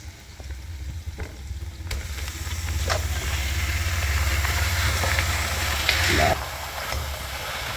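Mutton pieces frying with golden onions in a pan, a steady close sizzle with a low rumbling bed and occasional stirring scrapes, continuous throughout.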